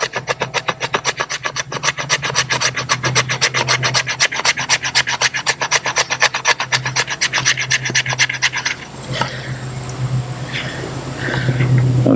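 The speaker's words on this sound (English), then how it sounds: "See if we can scrape some of that off." A Condor Low Drag camp knife scrapes along a fatwood chunk in fast, rhythmic rasping strokes, loud and close, then slows to a few rougher scrapes near the end.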